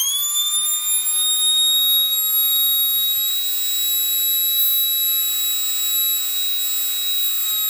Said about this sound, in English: You can tell right away that the pitch is a lot higher on this motor.